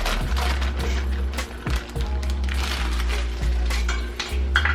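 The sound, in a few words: string beans dropped into a pot of water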